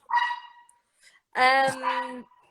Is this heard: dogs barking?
yes